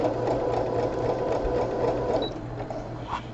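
A sewing machine stitches fabric scraps together for a crumb quilt square, with a steady, close mechanical whir and rapid needle chatter running throughout before easing slightly near the end.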